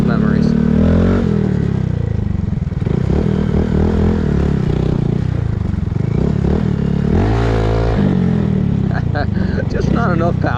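Honda Grom dual sport motorcycle engine droning and revving steadily while ridden across a parking lot off-road, loud and close throughout, with scraping clatter and a rider talking over it.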